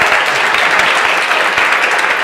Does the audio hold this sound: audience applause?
yes